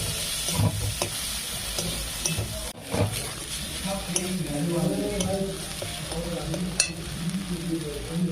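Ginger-garlic paste sautéing in a pan for chickpea ghugni gives a steady close sizzle and fry, with intermittent scraping stir strokes and a brief utensil clink, while someone talks now and then over it.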